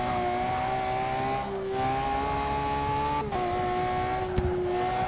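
A tuned car's engine in the Forza 6 racing game, held near redline, a loud steady high-pitched drone with the pitch dipping briefly at a few gear changes, with no voice over it.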